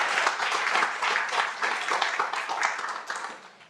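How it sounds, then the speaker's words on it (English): Warm round of applause for the alumni at a Leadership Westchester graduation ceremony, a full crowd clapping densely and loudly, then gradually tapering off toward the end. "So, round of applause for the alumni room."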